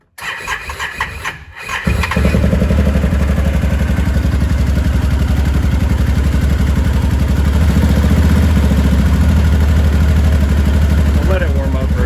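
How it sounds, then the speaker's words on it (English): A 2013 Can-Am Maverick side-by-side cranks briefly, catches, then settles into a loud, steady, close engine drone with a raised rev that holds for the rest of the stretch. "So let's see if it'll rev up now."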